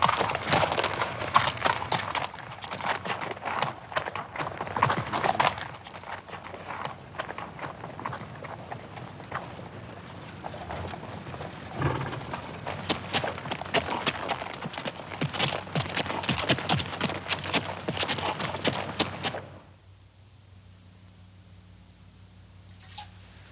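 Horses clip-clop along in a steady, continuous rhythm of hooves for most of the stretch, fairly close, before the hoofbeats stop and a quiet lull remains.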